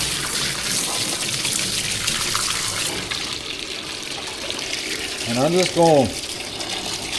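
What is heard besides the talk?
tap water running over a sodium sulfate cake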